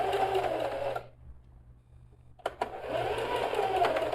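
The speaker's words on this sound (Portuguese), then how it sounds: "Dá um retrocesso." Sewing machine backstitching on a bag: a steady stitching run, a short pause with a couple of clicks from the lever, then stitching resumes, close and clear.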